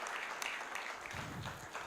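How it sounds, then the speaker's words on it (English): A conference audience at an intellectual property event gives a faint, brief round of clapping, scattered and distant, with a murmur underneath. "Ladies and gentlemen, another big round of applause for Miss Elizabeth Ntege."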